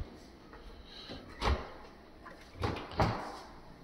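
A storage drawer beneath the cooktop in a fully equipped Paris apartment kitchen slides and knocks shut, making about three soft thuds spaced over a few seconds against quiet room tone.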